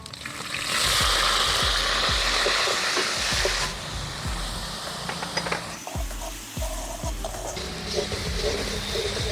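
Whole spices and onion paste fry in hot oil in a pan for a korma, giving a steady loud sizzle with scraping stir strokes and clinks throughout, no talking.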